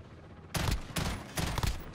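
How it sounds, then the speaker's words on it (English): Gunfire in the Call of Duty Modern Warfare beta, heard as three loud, closely spaced bursts of automatic fire, each lasting about a third of a second, separated by brief pauses after a quiet start. "the gun sounds in this game are awesome!"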